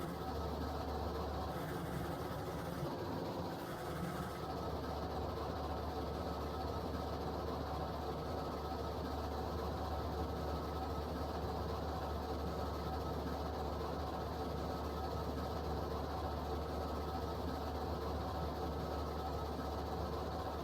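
A freight train in a video game rumbles past continuously at a steady level, a low heavy roll with faint rhythmic clatter throughout, with no voices.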